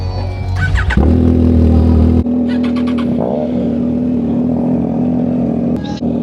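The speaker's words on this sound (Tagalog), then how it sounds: "Parang kumakanta lang yung motor natin eh." A Triumph Trident motorcycle engine runs steadily close by, a deep even drone with a brief rising rev near the start and small shifts in pitch.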